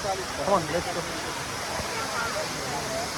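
Jhari waterfall in Chikkamagaluru, running at low flow, gives a faint continuous hiss of falling water, with voices talking lightly over it at the start.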